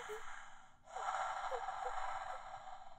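Creepy breathing heard as if through a school intercom: a faint, thin, filtered gasp and drawn breath with a soft exhale, close and isolated over quiet background.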